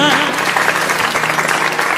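Enthusiastic audience applause for a singer at a Bhojpuri music stage event, a dense, sustained burst of clapping that fills the whole stretch without a break.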